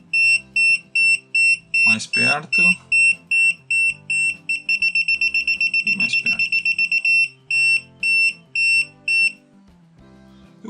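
Rapid electronic beeping from an ANENG 622B multimeter's non-contact voltage detector, slow regular pulses that speed into a fast run, then slow again, with someone speaking briefly over it.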